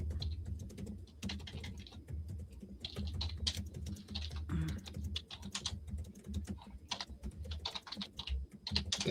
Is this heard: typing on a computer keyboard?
yes